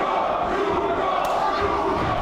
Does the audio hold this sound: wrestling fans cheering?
yes